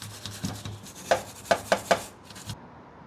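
An old toothbrush scrubs a Yamaha R6 front brake caliper in a series of short, sharp bristly strokes, several distinct rasping scrubs in quick succession, close and alone.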